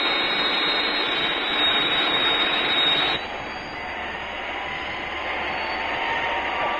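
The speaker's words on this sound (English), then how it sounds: "There must be an aircraft in the vicinity." A jet aircraft engine roars loudly and steadily in a LEGO Thunderbirds animation, its whooshing tone dropping abruptly to a lower, duller roar about halfway through.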